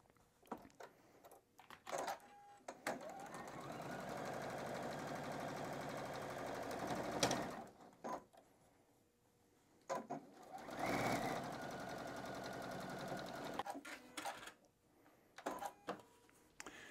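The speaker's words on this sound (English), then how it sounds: "we're just going to sew that right across" A sewing machine stitches pieced quilt blocks across a centre seam, running in long steady whirring stretches between brief stops, close and alone.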